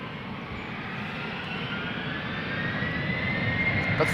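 A Norwegian airliner jet taxis at Schiphol Airport, its steady broadband engine roar and faint rising whine holding constant and moderately near, slowly swelling louder toward the end.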